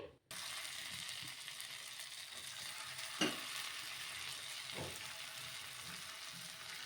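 Poha snacks frying in oil, a continuous close sizzle with crackles and a couple of brief louder clatters, no talking over it.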